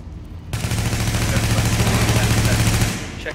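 Sustained automatic fire from a main weapon in Tom Clancy's The Division beta Dark Zone, a loud continuous rapid burst starting abruptly and running nearly three seconds before tapering off.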